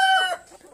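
Chickens in a coop give a loud, close cluck-and-squawk burst that fades quickly into quieter background rustle.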